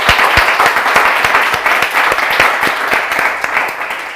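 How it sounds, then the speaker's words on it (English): An audience at a film pitching forum in Mallorca claps enthusiastically, a dense, steady wash of many hands with a few sharp individual claps standing out, loud and close, with no talk. "So please give a big applause for all of you."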